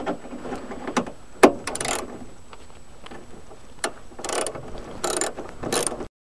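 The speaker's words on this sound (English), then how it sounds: "I have a ratchet and a socket, and this socket is going to fit the bolt that I need to take off." A ratchet with a socket works a bolt loose on a car during a tune-up, giving several short bursts of close clicking separated by pauses and scattered metallic knocks.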